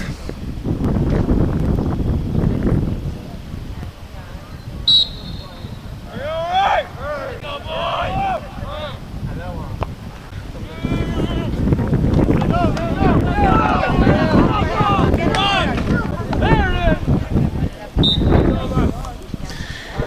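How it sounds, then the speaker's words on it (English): Wind gusts across an outdoor freshman football field during a game, a steady roaring rumble of wind buffeting the microphone, with someone talking over it and faint crowd voices in the background. "The wind blew the ball off the tee."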